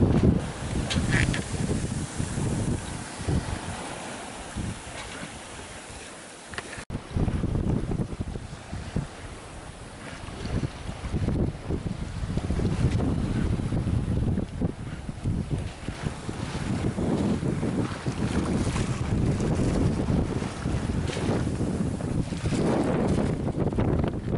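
Strong papagayo wind roars steadily over a sailboat underway along the coast near Cabo Santa Elena, heading from Nicaragua toward Costa Rica. Gusting buffets the microphone constantly, and water wash and hull noise run beneath it with no pauses throughout.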